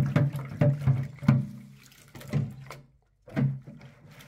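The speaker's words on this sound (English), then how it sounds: "we'll give it a wash" A Maxxfan roof fan part from a self-built campervan being washed under water, with splashing and running water in bursts, knocks and handling sounds close by, and a short silent gap before a final splash.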